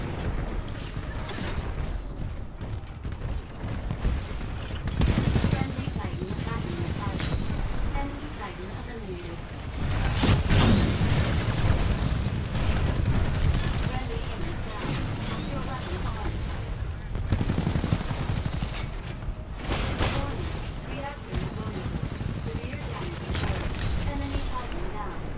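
Battle rifle fire in Titanfall 2 during a Monarch Reigns match, repeated bursts and booms amid loud chaotic combat, with a player talking over it.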